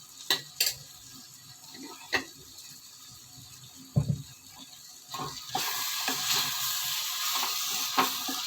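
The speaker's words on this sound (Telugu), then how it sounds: "తర్వాత డైరెక్ట్గా చింతపండు పులుసు పోయాలండి" Tamarind juice is poured into a hot pan while cooking a Telugu egg mulakaya pulusu. A few utensil clinks come first, then a soft splash, then a steady sizzling hiss that rises and stays loud. Nobody speaks.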